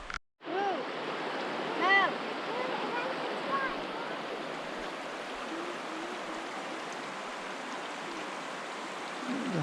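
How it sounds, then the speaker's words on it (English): The Hoh River in Olympic National Park flows as a steady, broad rushing hiss, close and continuous, with a few brief voices at the start. "The Hoh River."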